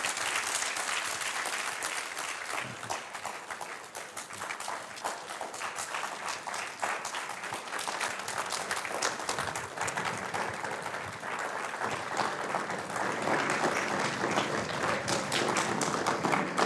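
A lecture audience breaks into sustained, dense applause that holds steady and swells slightly toward the end.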